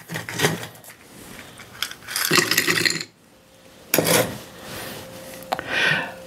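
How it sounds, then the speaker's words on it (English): Ice cubes clink and rattle into a cocktail glass while a Corona cocktail is mixed, coming in several close, bright bursts separated by short pauses, with no talk. "let's put some ice in the glass"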